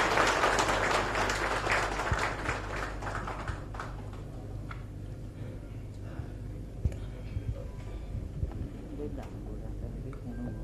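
Loud applause from a crowd welcomes Amit Shah at a BJP election manifesto launch in Odisha, bursting strongly at first, then thinning into scattered claps over a low hall hum.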